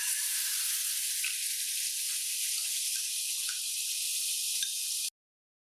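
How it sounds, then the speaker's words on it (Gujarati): Spice paste hitting hot oil in a frying pan gives a steady, fairly loud sizzle and hiss that runs unbroken for about five seconds before cutting off abruptly. "તેલ ગરમ થઈ જાય એટલે બનાવેલી પેસ્ટ આમાં એડ કરવાની."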